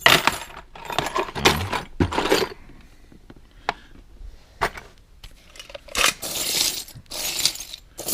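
A large collection of antique skeleton keys jangles and clinks in repeated bursts, with metallic rattling loud and close, separated by quieter pauses.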